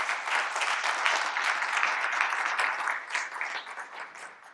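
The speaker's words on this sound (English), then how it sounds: "Can you please give them a very warm round of applause?" An audience gives a warm round of applause at a panel event on equality and sustainable development, dense steady clapping from many hands filling the room before gradually easing off.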